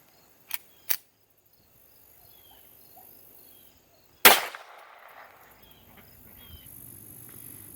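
A single sharp crack from a .22 pistol firing Remington Viper high-velocity ammunition, loud and abrupt with a short ringing tail, preceded by two small clicks and followed by quiet rustling.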